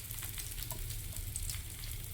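A large spoonful of ghee sizzles in a hot pan for a fish biryani tempering. It makes a faint, steady hiss with a few small pops, and no one speaks.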